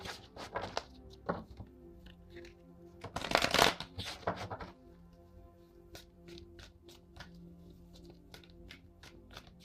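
A deck of tarot cards is handled close by, with soft taps and shuffles, a louder riffling burst near the middle, then scattered light card snaps and flicks, with no talking.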